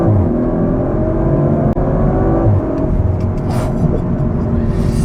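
2023 Audi RS 5 Competition accelerating at full throttle on a road, a loud sustained engine drone with rising tones heard from inside the cabin.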